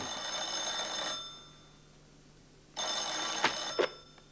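An old-style telephone bell rings in two bright, shrill bursts separated by a short pause, fairly close and clear, with no talk over it.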